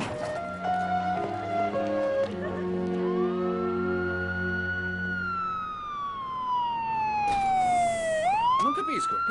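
Ambulance sirens wail close by, two overlapping tones rising and falling, with the pitch swooping down as one passes, loud and continuous with some faint speech around them.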